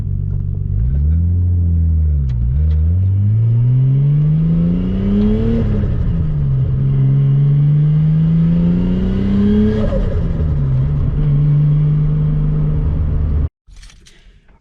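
Nissan R33 Skyline at full throttle, engine pitch climbing loudly as boost builds, dropping briefly at each gear change and rising again, close and continuous before cutting off abruptly near the end.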